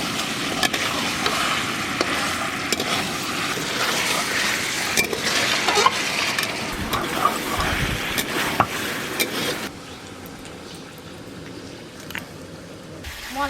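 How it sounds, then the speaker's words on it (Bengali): Chicken curry sautéing in a pan with Kashmiri red chili powder and salt sizzles loudly beside scraping stir strokes, then drops to a quieter frying hiss for the last few seconds. "এবার সব কিছু একসঙ্গে একটু ভালো করে কষে নেব।"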